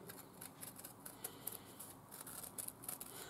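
Scissors snip through stiffened, paper-backed fabric around a circle. The cutting gives a quiet, quick run of crisp clicks.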